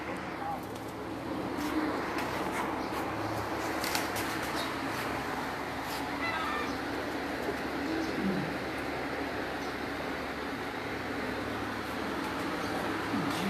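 Teddy pigeons brought from Dubai coo on a rooftop loft, their soft calls mixed into a steady wash of outdoor background noise that runs throughout.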